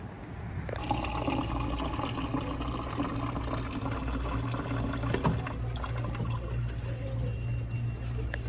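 Water runs steadily into a container, a continuous rushing, filling sound that starts abruptly and holds at close range, with a low steady hum underneath.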